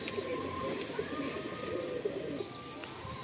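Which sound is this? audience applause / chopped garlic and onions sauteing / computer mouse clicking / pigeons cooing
pigeons cooing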